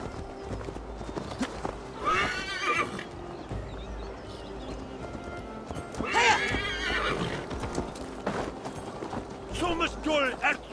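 A horse being ridden through a war-ravaged East Anglia landscape in Assassin's Creed Valhalla, with steady clip-clopping hooves under a bed of game ambience, plus a few loud whinnies and neighs spaced through the ride.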